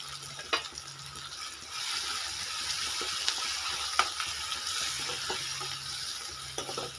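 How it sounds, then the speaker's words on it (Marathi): Ground coconut goes into a sizzling pan for mung-husk amti, a steady frying hiss swelling louder after it is added, with a few sharp clicks and scrapes and no talk. "थोडंसं मी खोबरं वाटून घेतलेलं होतं ते पण टाकते यामध्ये"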